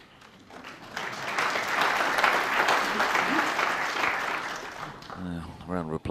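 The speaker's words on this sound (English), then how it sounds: "Round of applause for the snooker" A snooker crowd at the World Championship applauds, steady clapping that swells for several seconds and then tapers as a commentator starts talking over it.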